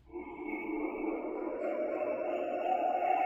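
HasLab Ghostbusters ghost trap toy switching into its spooky mode, giving off a steady, swelling electronic hum and drone that builds gradually in loudness over a few seconds, heard alone without talk.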